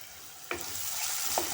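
Half a tomato drops into onions frying in a pan for banana flower bhaji, giving a steady close sizzle with two brief splattering bursts as the pieces hit the hot oil.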